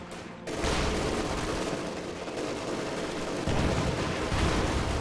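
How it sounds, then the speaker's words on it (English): Sustained machine gun suppression fire in a World War II strategy video game rattles on as a dense, continuous, loud barrage for about five seconds, with no pauses and no voices. "Two bazookas, neither shot connects due to the suppression fire."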